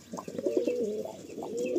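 Madrasi pigeons giving soft, close, low throaty coos, several rolling calls in quick succession over a quiet background, with no talking.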